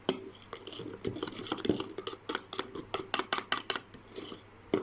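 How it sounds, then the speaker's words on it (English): Doughnut batter being mixed in a bowl, a spoon scraping and clinking against the sides with soft wet squishes in an irregular, close rhythm, fairly quiet and with no voices. "Hope you see how I'm mixing my ingredients"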